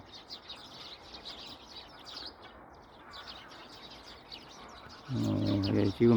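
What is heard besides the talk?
birds calling in the foggy early morning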